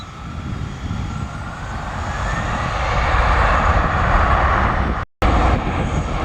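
Alaska Horizon ERJ-175 jet taking off at Portland, a broad engine roar building steadily and holding loud, with a brief dropout near the end.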